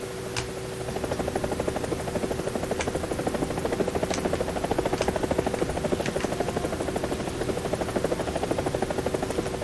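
A War Thunder helicopter flies in to land, its rotor thumping in a steady rapid pulse over a constant engine whine, with occasional faint clicks, no talking.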